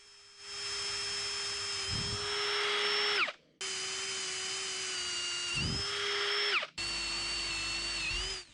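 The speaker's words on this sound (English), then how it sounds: "I need to use a carbide burr here to give me a flat spot on the fourth hole." High-pitched whine of a carbide burr grinding a flat spot at an oil hole in a K&T milling machine saddle, three sustained loud bursts with steady tones that drop as the tool spins down between passes.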